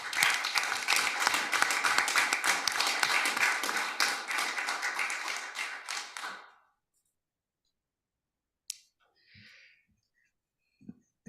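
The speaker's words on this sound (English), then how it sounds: "Let's give him a round of applause." Applause from the audience at a city council meeting in Washington City, Utah, steady dense clapping for about six seconds that stops abruptly, followed by near silence with a few faint knocks.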